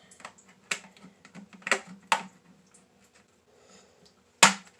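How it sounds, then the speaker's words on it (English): Regular wire snips cutting up leftover wire while making a quail feeder from trash, a handful of sharp, isolated clicks and snaps spaced irregularly, close and fairly loud, the last one the strongest. "these are regular wire snips, and so you just kind of cut them up."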